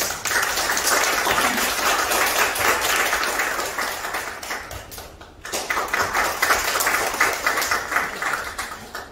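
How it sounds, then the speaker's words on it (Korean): An audience at a Korean political forum, a debate on same-sex marriage legislation, gives sustained, loud applause that dips briefly midway and then swells again, with no talking over it. "나오실 때 큰 박수 부탁드리겠습니다."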